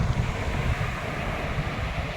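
Sea waves surge onto a calm shore in a steady, loud wash of surf, with a low rumble and some wind buffeting the microphone throughout.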